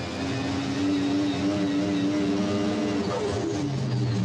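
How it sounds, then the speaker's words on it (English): Pulling tractor or super stock diesel truck engine roars loudly and steadily from the cockpit, holding a heavy droning pitch before the throttle is pulled back near the end. "Pulls the throttle back"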